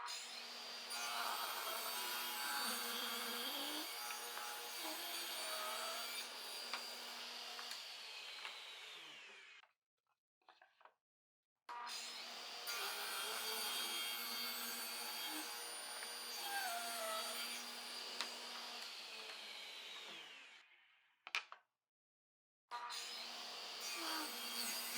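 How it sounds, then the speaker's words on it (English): A table saw rips along the edge of a wood board, a loud steady whine in two long passes separated by a short quiet gap, with a brief clack between them and the blade spinning up again at the end. "the blade's going to cut this edge nice and flat and square to the table saw bed as well"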